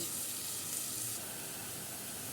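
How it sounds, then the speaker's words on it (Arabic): Peppers sautéing in a pan with browned onion, a steady, even sizzle and hiss with no talk over it, softening slightly partway through. "البصله خدت معانا لون اهي، هنزل بالفلفل، هذه تشويحه بالفلفل بسيطه كده"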